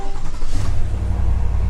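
A Cadillac Escalade engine catches and settles into a loud, close, low rumbling idle, with a brief rise in revs just after starting and no voices over it.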